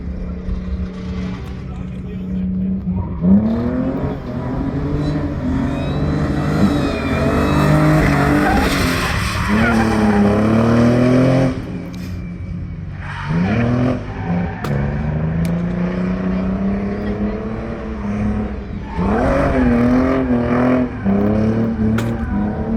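A BMW E34 drift car with a swapped Barra engine drifting, engine revving hard with rising and falling pitch and tire squeal, loud and sustained, with people talking over it.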